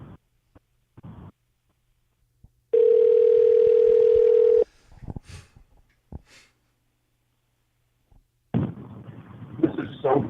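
A telephone dial tone sounds on the line during a phone call, a single steady pure tone lasting about two seconds, surrounded by quiet breaths and handling clicks, then a burst of rough noise near the end.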